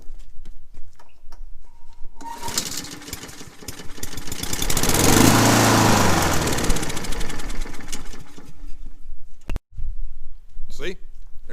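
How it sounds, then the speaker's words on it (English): A Honda lawn mower engine starts after carburetor cleaner is sprayed in and runs briefly and roughly, a loud close buzzing chug that rises, holds for several seconds, then fades back toward ticking and clatter. "Started right up on a can of carburetor cleaner. It smoked and acted up, but it sounded pretty good."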